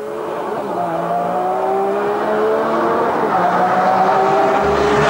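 An Enzo Ferrari accelerating flat out toward 300 km/h on a test track, its engine a loud, steady high-pitched howl with harmonics climbing through the gears, continuous and close with no talking.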